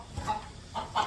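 Chickens and roosters on a farm give a few short, close clucks that grow louder toward the end.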